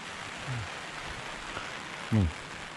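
Steady rain falls on a riverside campsite by the Mae Taeng river in misty hills, with the water running high and nearly flooding. A constant soft hiss continues throughout, broken by a couple of brief low voice-like sounds.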